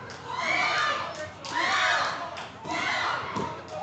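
Crowd at an intergender wrestling match, with young women cheering in three loud swelling bursts separated by brief lulls.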